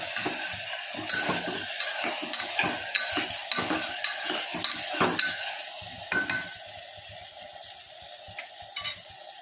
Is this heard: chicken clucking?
no